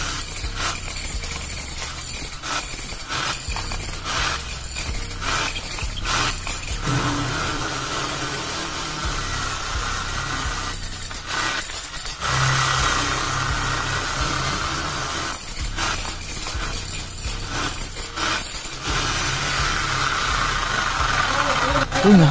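A Bosch GSH 11E 11 kg demolition breaker, on the bench for repair, runs on power with a steady, loud mechanical drone and rattling hammer action that surges at intervals, while someone talks over it.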